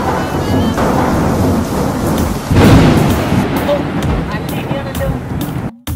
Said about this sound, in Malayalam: എന്നില്ലാത്തൊരു ഇടിയാണല്ലോ അപ്പൊ